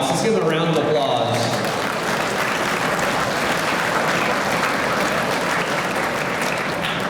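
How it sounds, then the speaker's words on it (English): A crowd at an Oklahoma Capitol advocacy day applauds state leaders, loud sustained clapping from many hands at a constant level, with a voice briefly audible at the start. "Let's give them a round of applause."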